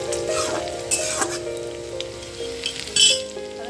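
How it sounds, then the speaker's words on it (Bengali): Ginger fries in oil for a masoor dal ghugni, with a continuous close sizzle and a few metallic clinks from stirring in the pan. "আদাটা খুব সুন্দরভাবে দেখো ভালো করে ভেজে নিলাম আদাটা"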